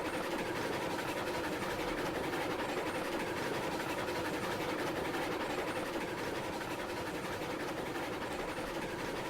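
A steam locomotive, a geared Heisler engine, runs in the railroad game RailRoads Online, giving a steady, continuous rumbling chug with rail clatter at a moderate, even level throughout, with no talk over it.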